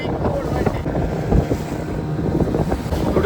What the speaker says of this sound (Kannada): ಬೋಟ್ ಫಿಶಿಂಗ್ ಮುಗಿಸಿ ಎಲ್ಲ ರಿಟರ್ನ್ ಬರ್ತಾ ಇದೆ.